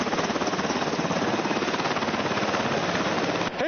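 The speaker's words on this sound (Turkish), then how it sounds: "Helikopterden sarkan halatlara tutunarak gökyüzünde adeta tur atıyor özel harekat polisleri." A police helicopter flying, its rotor giving a loud, steady rapid chop close by that fills the whole stretch before cutting off abruptly at the end.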